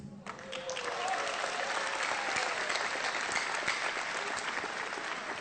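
Audience applause at a talk about sports centres, a sustained burst of many clapping hands filling the room at even strength for several seconds after a brief voice.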